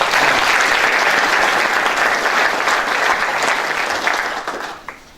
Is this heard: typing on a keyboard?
no